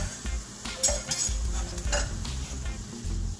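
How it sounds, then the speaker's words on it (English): Onions, green onions, carrots, peppers and garlic dropped into a hot pan for a lobster and shrimp curry; soft sizzling with clattering stirs and utensil knocks against the pan, close up, no voices. "So now I'm going to drop my veggies in."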